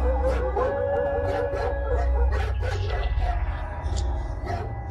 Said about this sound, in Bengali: রাস্তার সবকটা কুকুর যেন একসঙ্গে কেঁদে উঠল